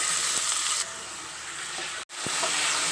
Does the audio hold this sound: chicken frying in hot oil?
yes